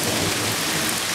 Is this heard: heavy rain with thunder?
yes